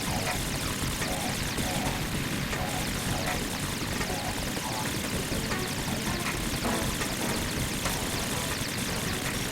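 A Harrier jet in the PS2 game Metal Gear Solid 2: Sons of Liberty roars steadily with dense, continuous engine and turbine noise that stays loud and unbroken throughout.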